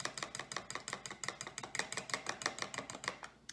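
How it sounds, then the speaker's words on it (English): A fork whisks liquid ingredients in a measuring cup for pie crust, a quick, even run of light clinking taps against the cup, close and steady, slowing slightly at the end. "I'm going to whisk those around with a fork, mix it all together"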